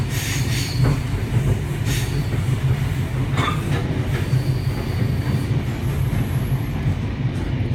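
An NSW TrainLink V set passenger train, set DCT 9042, runs along the rails with a loud, steady rumble, occasional wheel squeals and faint rhythmic clicks throughout.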